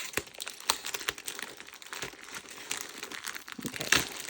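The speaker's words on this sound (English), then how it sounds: "I'm destroying the poor baggie." A crinkly plastic baggie being torn open by hand, producing continuous crackling and crumpling with sharp tearing bursts, close and fairly loud with no talk over it.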